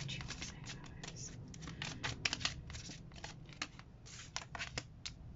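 Tarot cards riffled and shuffled by hand in a series of quick papery flicks and slaps, close and fairly soft, irregular in rhythm.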